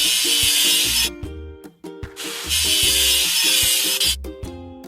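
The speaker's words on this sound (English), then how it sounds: "Let's get rid of the machine's rust." Rust is scrubbed off a machine in a kids' construction video game: loud rhythmic rasping scrub strokes, repeated in short bursts, layered over a bouncy synthesized game tune.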